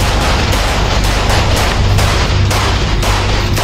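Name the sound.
gunfire from Russian combat robots in a played video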